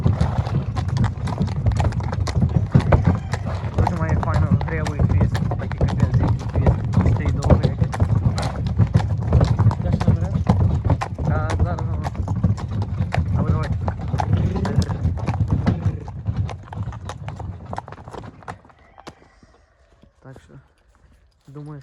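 Steady clip-clop of a mare's hooves continues for a long stretch with people talking over it, then the hoofbeats slow and fade near the end.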